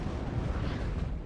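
Mortar artillery fire rumbles through a battle in the real-time strategy game Warno, a dense, continuous low roar of distant impacts and booms with no clear gaps, steady and moderately loud, without talk.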